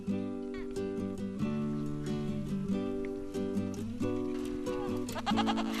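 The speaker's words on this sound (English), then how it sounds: "The goat kids, which had been fenced in overnight, are let loose." A pen of goat kids in the Gobi Desert bleats constantly, with many overlapping cries layered close and loud and no pause across the whole stretch.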